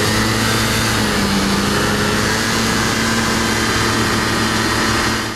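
A Peugeot Django 50 two-stroke scooter engine runs steadily, a continuous buzzing crackle with a low droning hum and slight pitch shifts, loud and close throughout.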